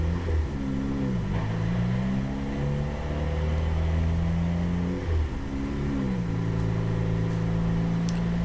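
Honda S2000 engine revving hard on a dyno, a loud steady roar with rising pitch sweeps as it climbs through the gears, with brief dips around each shift.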